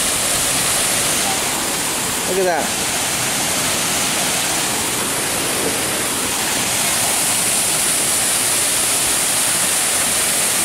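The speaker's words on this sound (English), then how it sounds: "I like waterfalls. They're the best." A waterfall at Knott's Berry Farm rushes in a loud, unbroken roar of falling water, heard close up, with a brief spoken exclamation over it.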